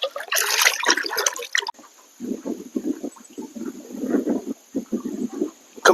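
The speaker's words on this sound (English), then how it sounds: "Rinse my hands off." Water splashes and drips close by as hands are rinsed off while catfish fishing, first a brief rushing pour, then a run of small uneven trickles and splashes.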